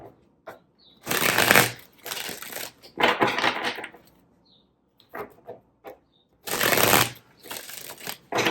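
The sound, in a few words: shuffling tarot cards for a reading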